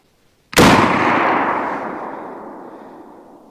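A single loud, sharp rifle shot from a 38-55 Winchester firing a Buffalo Bore 255-grain jacketed flat-nose bonded-core round, cracking close by and followed by a long fading outdoor echo.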